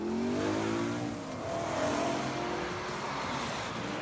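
Sports cars, a mix of makes such as Mercedes, BMW and Porsche, drive past on a road through quiet Alpine hills, engines revving and rising in pitch as they pass close by, a steady loud roar throughout.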